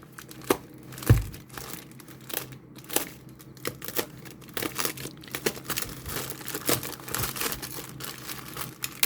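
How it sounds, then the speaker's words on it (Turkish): A parcel package is opened by hand, with bursts of crinkling and crumpling packaging, tearing and rustling in irregular close handling noises throughout, no voice. "biz açalım bu kargoyu"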